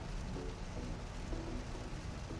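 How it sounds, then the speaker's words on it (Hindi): Heavy, dense rain drums steadily on a moving car during a highway drive in Queensland, a constant close wash of drops with a low rumble beneath and no talking. "अंधाधुंध बारिश हो रही है एकदम"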